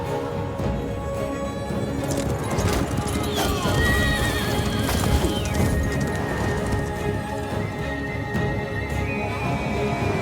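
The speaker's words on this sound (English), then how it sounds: "behold, a white horse" A white horse gallops and neighs in a historical video game trailer, with loud drumming hoofbeats, a shrill whinny, and smoky battle ambience layered beneath.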